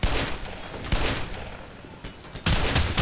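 Machine gun fire in the video game Black Mesa, several loud sustained bursts of rapid shots, separated by short gaps.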